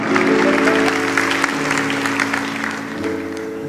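A church congregation claps loudly during a sermon, dense and sustained, then slowly tapers off, with a faint musical tone underneath.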